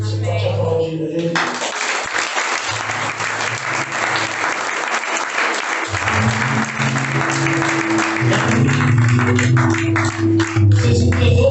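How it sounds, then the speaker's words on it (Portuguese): A church congregation applauds warmly, steady thick clapping sustained for several seconds while low music or voices hum underneath. "Você pode aplaudir Ele."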